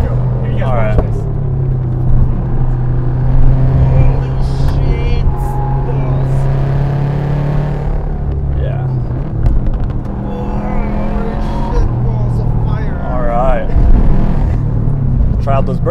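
A Subaru WRX pushed hard through corners, its engine rumbling steadily and loud throughout with a brief surge near the end, while people talk over it inside the car.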